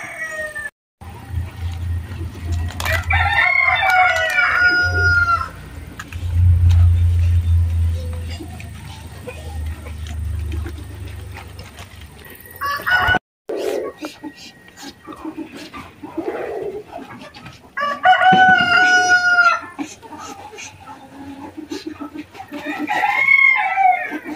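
Roosters crow loudly several times with hens clucking around them, close by, over an outdoor farmyard background.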